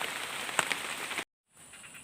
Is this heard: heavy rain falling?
yes